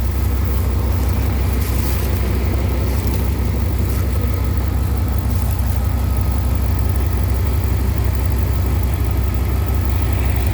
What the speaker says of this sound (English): the engine runs pretty good.